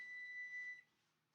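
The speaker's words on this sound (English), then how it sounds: "Our timer went off." Kitchen timer going off while baking cupcakes, a steady high-pitched electronic tone held close and clear for under a second before cutting out, leaving faint room noise.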